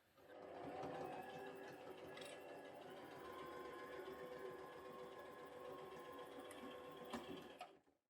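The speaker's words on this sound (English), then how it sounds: "I'm going to sew down here." A sewing machine runs steadily for several seconds, stitching a pleather moto jacket collar seam, its rapid needle rhythm close and continuous before stopping near the end.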